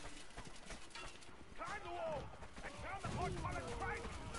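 Horse hooves clip-clop in a video game, a run of quick rhythmic hoof beats at moderate level mixed with game sound effects and a talking voice.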